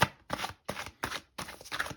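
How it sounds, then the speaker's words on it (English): Urban Tarot cards shuffled close up in short bursts, five or so crisp riffling swishes separated by brief pauses, quiet and alone. "We're going to be using some Urban Tarot that I'm shuffling right now"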